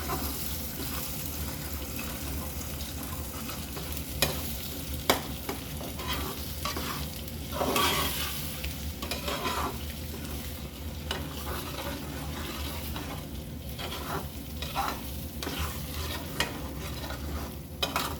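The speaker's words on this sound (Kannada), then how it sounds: "ಚೆನ್ನಾಗಿ ತಿರುಗಿಸ್ತಾ ಇರಬೇಕು, ಇಲ್ಲಾಂದರೆ ಅದು ತಳ ಹಿಡ್ಕೊಳ್ಳುತ್ತೆ ಮೊಟ್ಟೆ" Scrambled eggs for egg bhurji stirred in a frying pan, with a soft continuous sizzle under repeated scraping strokes of the spatula, close and moderately quiet.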